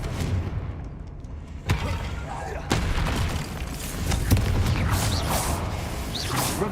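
Repeated spell blasts go off in Hogwarts Legacy, including a Confringo fire spell, with sharp booms and whooshing bursts over continuous rumbling combat noise and some speech.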